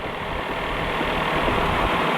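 Cessna 172 light aircraft engine running steadily on the runway before takeoff, a loud continuous droning rumble heard from inside the cabin.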